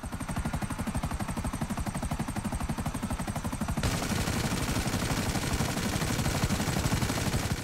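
Automatic weapon fire rattles in rapid, evenly spaced bursts during a Grand Theft Auto 5 gameplay shootout. The shots repeat continuously and loudly, growing fuller and harsher about halfway through, with no talking over them.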